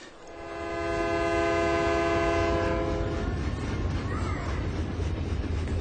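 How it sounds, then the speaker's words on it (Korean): A train arrives as a sound effect in a radio audiobook reading: a long, loud horn blast gives way to rumbling, rattling wheels on the track. "그때 기차가 도착했다."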